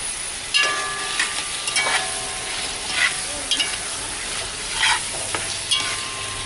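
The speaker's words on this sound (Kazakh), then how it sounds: "Енді бұрышымызды саламыз. Бұл бұрышты да 15 минуттай қуырамыз." Green peppers fry in oil in a pot that already holds tomatoes, with a steady close sizzle broken by repeated scraping stirs of a utensil against the pot. No one speaks.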